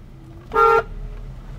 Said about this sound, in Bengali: হর্ন মারো, হর্ন মারতে থাকো